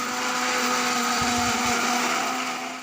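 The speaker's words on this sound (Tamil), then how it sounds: "மிக்சியில் இதை சில்லி பேஸ்ட்டாக அரைச்சிக்கணும்" A mixer grinder blends a chilli paste of onion, garlic, tomato and ginger in a steady, loud whir that holds the whole time, with a faint knocking of chunks partway through and no talk.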